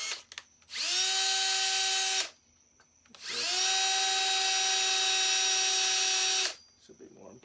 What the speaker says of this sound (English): I'm just gonna take my drill bit, ring them out just a little bit around